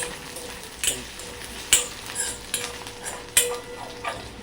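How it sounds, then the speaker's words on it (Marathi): Paneer pieces fry in very hot oil in a kadhai while a spatula stirs and scrapes them, giving several distinct clattering strokes over a constant close sizzle. "हे असं खालीवर परतत राहिलं तर हे पनीरचे तुकडे खाली लागत नाहीत, चिटकत नाहीत म्हणजे."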